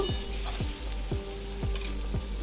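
Vegetables salted and frying in a pan for a Shyama rice pulao, a steady close sizzle with rhythmic stirring scrapes roughly every half second.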